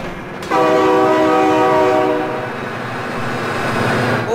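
A long, loud train horn blares steadily for several seconds in BeamNG Drive, layered over a heavy rumble of a train rolling past, with no talking.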